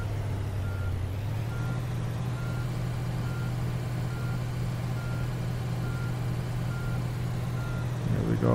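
A tour bus in Tourist Bus Simulator backs up with a steady reversing beeper sounding over the low drone of an idling diesel engine, which stays constant throughout.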